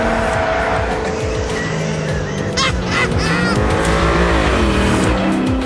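A GTR race car at speed, its loud engine droning steadily with gear changes and rising and falling pitch as the car understeers through corners, with faint squeals and brief swishes near the three-second mark.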